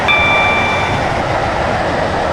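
A Class 331 train runs in the Roblox game Stepford County Railway, its loud, continuous rolling roar steady throughout, with a thin high whine in the first second.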